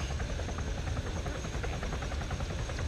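A helicopter in the video game Arma, a loud, steady rotor and engine drone that continues without a break, with no talking.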